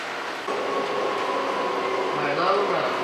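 A MAX light rail train departs, with a steady mechanical hum and an electric whine that climbs in pitch as it pulls away, heard from close by.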